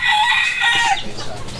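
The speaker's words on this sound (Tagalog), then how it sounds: "Meron pa tayo doon mga inahin." Hens and roosters on a backyard farm cluck and crow close by, a short burst of overlapping bird calls with one rooster crow standing out.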